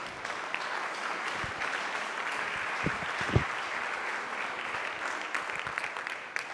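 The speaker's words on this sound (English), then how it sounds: "Let's give him a round of applause." An audience at a town council meeting gives a steady round of applause, fairly soft and even, with a few louder individual claps standing out near the middle.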